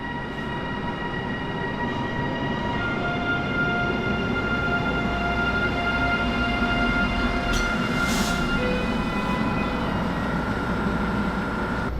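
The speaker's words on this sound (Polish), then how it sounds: "Pociąg RegioJet, charakterystyczna lokomotywa, charakterystyczne barwy i zimowe klimaty" A RegioJet passenger train hauled by a locomotive rolls steadily past at Warszawa Zachodnia in winter, a continuous loud rumble of wheels and carriages with humming electrical tones, and a brief hiss partway through.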